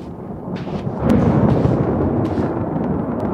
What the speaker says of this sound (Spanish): Están cayendo truenos cerca